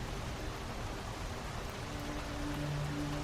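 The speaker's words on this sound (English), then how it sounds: "It started to rain outside." Steady rain falls outside, a dense, even hiss of drops that holds at constant loudness throughout, with no voices.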